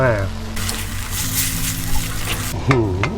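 Bamboo shoots stir-fried with minced pork and basil leaves in a pan, seasoned with oyster sauce, sizzle and scrape steadily and fairly close for a few seconds, with someone talking over the cooking throughout.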